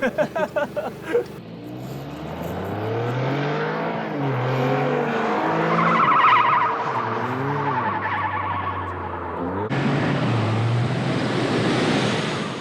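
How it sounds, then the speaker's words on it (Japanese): A car engine roars steadily while tires squeal in long, wavering screeches rising and falling, loud and close, with a rumbling surge near the end. "タイヤと路面が擦れ合い鳴り響くスキール音"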